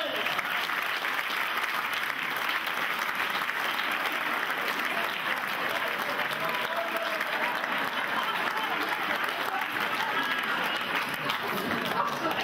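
Continuous audience applause at a live French comedy stage show, a broad even wash of many hands clapping that stays steady and moderately distant throughout, with faint voices mixed in.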